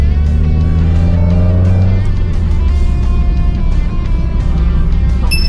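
A Mazda Roadster converted to carburetors accelerates, its engine droning loud and near and rising in pitch before the note drops back to a rough, steady rumble.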